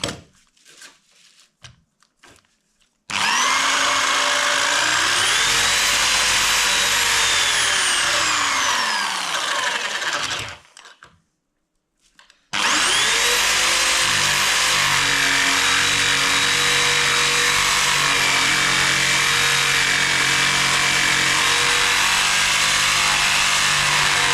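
A power saw cutting wood during preparation to dismantle a fireplace and move a beam: two long, loud bursts of high whining motor, its pitch sagging and recovering as the blade labours, separated by near-silence.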